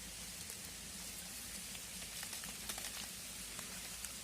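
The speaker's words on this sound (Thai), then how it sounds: "ฝนก็ลงเม็ดแล้วครับ" Rain falls steadily outdoors in Thailand during a mushroom-foraging outing, a faint, dense patter with scattered drop hits and no voices.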